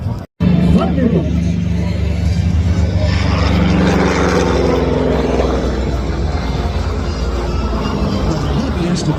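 A Thunderbolt single-engine fighter flies over an air show with a loud, continuous, rumbling propeller-engine drone that swells and fades slightly, while a voice talks over it.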